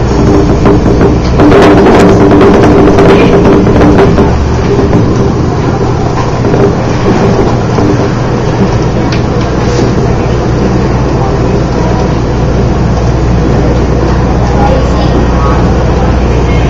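A loud, constant rumble of a moving Philippine National Railway train car, with clattering and rattling early on and a muffled murmur of voices under the noise.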